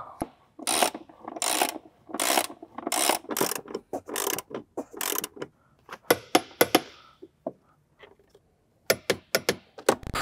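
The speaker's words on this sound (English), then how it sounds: "we're gonna torque it down to 37 foot-pounds" Ratchet wrench clicking as it torques down the battery hold-down bolts on a Porsche Cayenne (955/957), with bursts of rapid ratcheting strokes followed by sharper isolated clicks and short pauses, close and alone.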